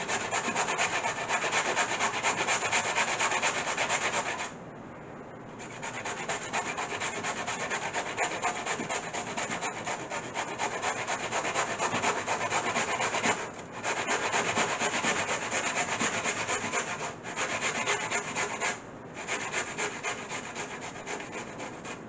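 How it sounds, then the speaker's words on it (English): Cassava being grated by hand on the medium side of a hand grater, a steady continuous rasping scrape with a few brief pauses between strokes, close and loud throughout with no talking. "Get a hand grater and you can grate it on the medium side."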